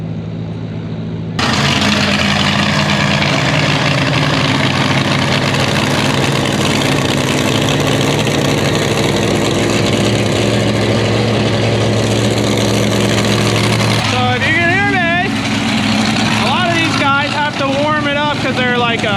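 A Superstock International pulling tractor's alcohol-fuelled engine, fitted with a block heater, idles at a loud, steady, close rumble that starts abruptly, then shifts in character near the end as wavering tones and talk join in.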